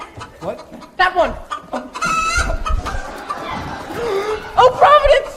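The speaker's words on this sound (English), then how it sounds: "Stop her! Stop that hen!" A hen clucks and squawks in a stage performance of Into the Woods. Agitated bursts come in short clusters, mixed with excited voices talking and calling over them.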